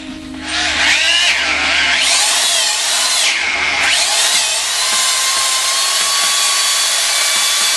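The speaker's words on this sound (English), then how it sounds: "You can drill it any way you want." Power drill fitted with a hardened bit bores into the soft aluminum of a Cadillac Northstar engine block, a loud, steady whine that rises and dips in pitch as the bit bites and eases, continuous for several seconds with no talking.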